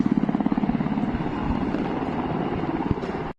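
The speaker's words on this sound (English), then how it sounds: "Social media footage of choppers, heard near a U.S. embassy," Helicopter rotors chopping near the U.S. embassy in Baghdad, a steady pulsing thud with a continuous engine roar, fairly close and loud throughout before cutting off abruptly.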